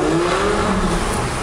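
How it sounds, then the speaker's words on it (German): A car engine revs hard and continuously during a sound check inside the car, a loud, steady roar with a rising tone and no voices. "wir sind hier im Auto mit Hans-Christian Haas und wir machen jetzt einen Soundcheck"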